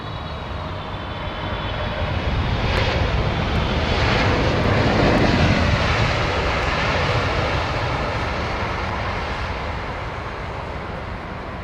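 Airbus A330 airliner passing nearby, its jet engine roar swelling to a peak midway and then easing off while staying loud and continuous, with no voices.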